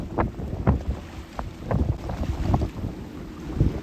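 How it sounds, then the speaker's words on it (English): Strong 30-knot wind gusts batter a boat out at sea, a low, steady roar of wind rushing over the microphone that swells and surges in repeated gusts, with no one talking. "30 knot gusts"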